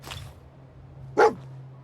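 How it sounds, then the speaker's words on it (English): Dogmeat, the dog companion in Fallout 4, gives a single sharp bark near the end after a soft breathy sound, standing out over a quiet steady game hum. "Dog found something."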